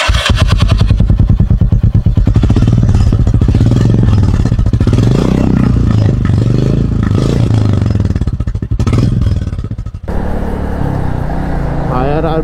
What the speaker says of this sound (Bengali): এক্সস্টের সাউন্ড এবার শুনি।